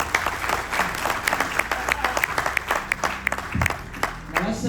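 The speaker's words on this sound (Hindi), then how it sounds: "ताली बजा दीजिए भाई लोग आप लोग।" Audience applause at a speaking event, dense irregular clapping from a crowd, moderately loud and continuous, with a voice breaking in near the end.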